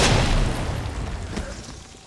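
A grenade explodes in the video game Resident Evil 2 with a loud, close boom right at the start, followed by a rumbling tail that slowly fades away.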